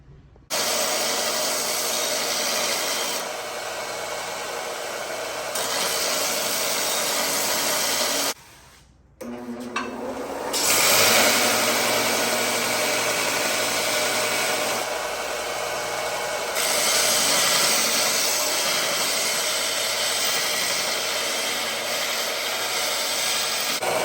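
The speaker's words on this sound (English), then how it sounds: "I'll clean up these edges on the belt sander" A belt sander cleans up the edges of small metal ears cut for Harley springer fork handlebars. A loud, steady grinding roar fills the shop, drops briefly near the middle, then resumes at full strength without talk.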